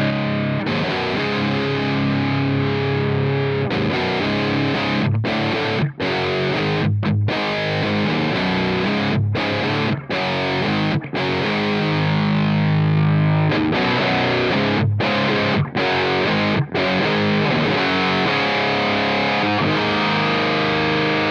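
Heavily distorted electric guitar through a Mesa Boogie Triple Rectifier amp model in AmpliTube 5 software, playing loud, dense chugging riffs with several abrupt stops and brief gaps, without any talking.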